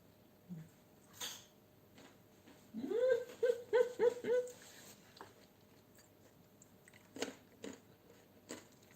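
Crunchy dried tiger nuts being chewed, a short run of crisp bites and grinding crunches in the middle, close and fairly quiet, with a few isolated softer mouth sounds before and after.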